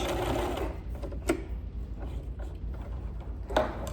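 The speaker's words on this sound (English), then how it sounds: "Reversing. Sewing off the edge." A sewing machine stitches the edge of a fabric face mask and then back-tacks, its needle chattering in a steady fast mechanical rhythm, close and clear.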